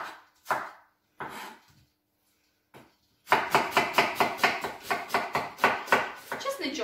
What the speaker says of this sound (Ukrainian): Я нарізаю цибульку.